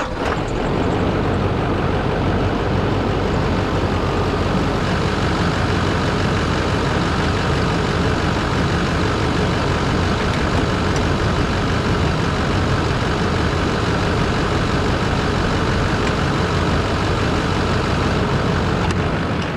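A vehicle engine idles steadily after a radiator flush, warming up so the coolant level can be checked. The idle is close, loud and unbroken throughout, with no talking.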